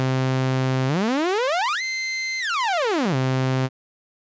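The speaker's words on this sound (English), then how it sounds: "we can hear the modulation effect" A tone from the Phalanx synthesizer, pitch-modulated with the mod wheel, sweeps smoothly upward, holds high briefly, then glides back down to its starting pitch before stopping abruptly; clean and alone.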